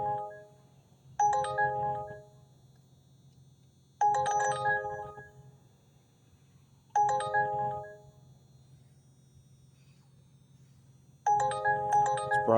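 A phone ringtone tune plays in four separate bursts of about a second each, spaced a few seconds apart, loud and clear over a low steady hum with no talking.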